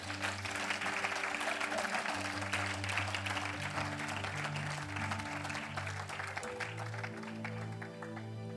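A church congregation claps and acclaims the Lord, with dense, continuous applause over sustained musical tones.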